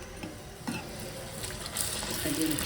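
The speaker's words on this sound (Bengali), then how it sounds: "চাউলের গুঁড়া দিয়ে কয়েকটা তেলে পিঠে বানিয়ে নিচ্ছি।" Rice flour pitha fry in hot oil, a soft crackling sizzle with light stirring or utensil clicks, fairly faint and steady, rising a little toward the end.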